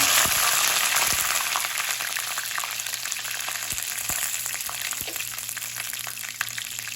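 Dried red chillies and curry leaves hit hot oil for a potato curry, giving a loud, continuous close-up sizzle scattered with sharp crackles and pops.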